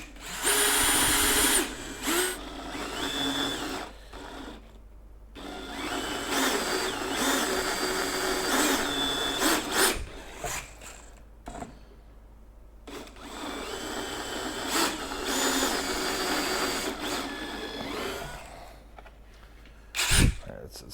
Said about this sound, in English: We're gonna go down to 1/2 inch, which on this step drill is right here.